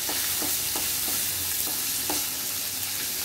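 Steady frying sizzle of coconut and green chillies in a pan with a few soft scraping stirs at irregular intervals, close and moderately quiet, no voices.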